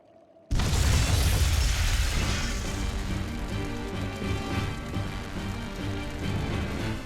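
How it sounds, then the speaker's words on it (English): Flamestone stores blowing up in the video game Tales of Berseria: a sudden loud boom after a brief quiet lead-in, followed by a sustained roaring, rumbling blast that lingers at high level to the end. "Tools of flamestone, sulfur, and oil. Those will explode."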